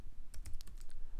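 Short burst of typing on a computer keyboard while entering 3D text in animation software, a handful of quick close key clicks in an irregular rhythm over faint background hum.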